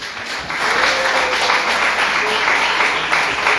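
Congregation clapping together in a church service, a steady wash of applause that swells after a brief quiet start, with a faint tone and voices underneath.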